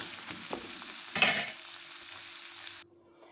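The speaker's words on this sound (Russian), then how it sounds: "Быстренько размешиваем." A spoon stirs botvinnik, a Russian beet-green soup, in a pot, giving a brisk, close scraping and swishing with a short louder burst midway before stopping abruptly.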